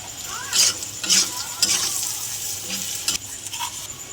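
Onion, turmeric and red chilli sizzle steadily in a hot pan while a spoon stirs and scrapes against it now and then, close up and fairly quiet.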